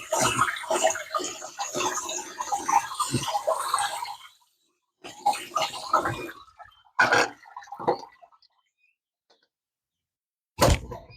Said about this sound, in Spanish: le echamos un poquito de agua